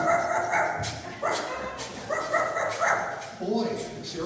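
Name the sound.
dog barking in a radio play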